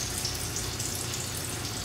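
Eggplant fries in hot oil once its water has cooked off, giving a steady, even sizzle and crackle that runs without a break at moderate volume, with no voices.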